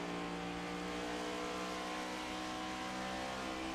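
Simulated race car engines in an iRacing game at Homestead-Miami Speedway drone steadily and loudly, with a sustained layered whine and no voices over it.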